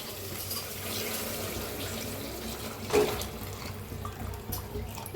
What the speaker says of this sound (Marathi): ते पाणी होतं ना, ते ह्याच्यात सगळं मिक्स करायचं आहे.